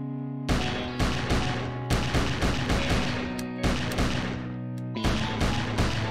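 Video game shotgun fire in Arrest of a Stone Buddha: a rapid series of loud, booming blasts in an irregular rhythm, about a dozen shots over a sustained musical tone, close and punchy, with no talk.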